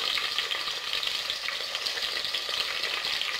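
Garlic, green chilies and curry leaves sautéing in hot oil, a steady loud crackling sizzle with faint stirring throughout, no voices.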